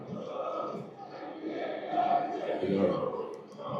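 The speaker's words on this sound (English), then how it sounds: "His fans, the noisy part of the ground at the moment." Distant roar of football fans in the stadium during Manchester United versus Crystal Palace, a swelling mass of chanting voices rising and falling in waves.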